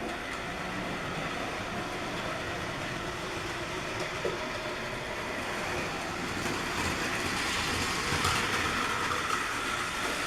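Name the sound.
toy train Oliver pulling passenger train on model layout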